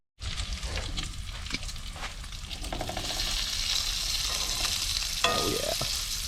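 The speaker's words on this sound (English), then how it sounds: "Bacon's coming along nicely." Bacon frying in a pan at a winter campsite gives a steady, close crackling sizzle that thickens toward the end, with a few small pops and a faint utensil tap.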